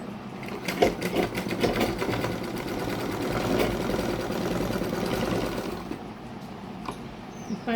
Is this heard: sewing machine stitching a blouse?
yes